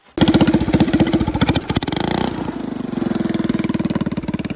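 A gas-powered GT Snow Racer toboggan engine starts and runs loud and close, a rapid pulsing putter that revs briefly, then settles into a steady idle.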